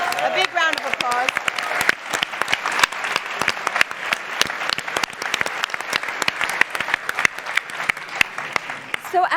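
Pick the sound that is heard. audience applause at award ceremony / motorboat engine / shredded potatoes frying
audience applause at award ceremony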